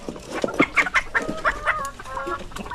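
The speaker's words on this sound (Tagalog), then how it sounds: "Nakapili na ng manok na decal brown." Several Dekalb Brown chickens cluck and squawk close by in a busy, irregular chatter, with short rising calls overlapping one another.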